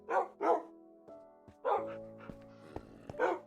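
Pet dogs bark in a video game, a few sharp close barks in quick pairs followed by scattered electronic tones and clicks, with no talking.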